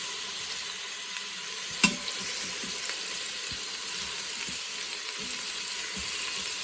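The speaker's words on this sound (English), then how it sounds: "Just give them a quick sear on all sides" Pork pieces sear in hot oil with a constant broad sizzling hiss, one sharp clack of a utensil early on and a few soft thumps as pieces are turned, no voices.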